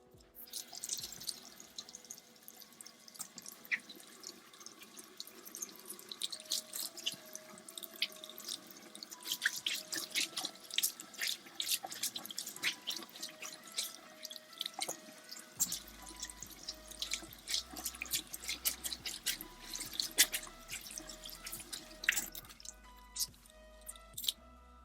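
Wet beauty blender sponge squeezed out by hand, water dripping and splashing in a steady busy patter with soft squishing, close and continuous, no voices.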